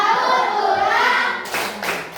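Schoolchildren in a classroom chant together in unison, then break into a short burst of crisp group hand clapping near the end.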